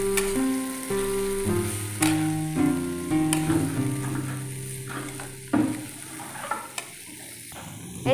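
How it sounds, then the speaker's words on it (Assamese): A fry of fiddlehead fern and egg is stirred in a pan, giving a gentle sizzle with scraping stir strokes under soft tonal music. "এয়া 1 মিনিটৰ পাছত মই এইখিনি ভালদৰে লৰাই লৈ গোটেইখিনি একেলগে কৰি দিম।"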